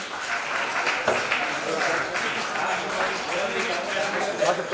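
An audience claps steadily at a school ground opening and felicitation ceremony, a dense continuous patter of many hands throughout.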